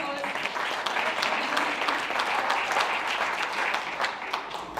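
Sustained applause from an indoor audience welcoming two sponsor representatives at a trustees' gathering, a dense, even clatter of many hands near and steady throughout.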